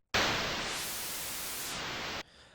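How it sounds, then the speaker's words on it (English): Synthesized white noise burst for a riser effect, a loud, dense hiss that starts abruptly, holds steady for about two seconds with a slight filter sweep in the top end, then cuts off. "that's the first step of creating a white noise riser"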